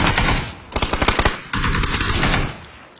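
Bursts of AK rifle fire in a shooter game: rapid automatic volleys of loud, sharp cracks, a short pause, then another stretch of sustained firing, with no talk over it.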